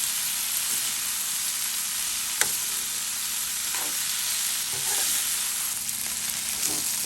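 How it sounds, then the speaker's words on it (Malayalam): Ivy gourd (kovakkai) fries in a pan over low flame with a constant, even sizzle and hiss, punctuated by a few faint clicks and scrapes of stirring. "നമുക്കിത് ഒന്നുകൂടെ ഇളക്കി ഇട്ടതിന് ശേഷം ഇതുപോലെ തന്നെ ലോ ഫ്ലെയിമിൽ ഇട്ടിട്ട് അടച്ച് വെച്ച് കൊടുക്കാം."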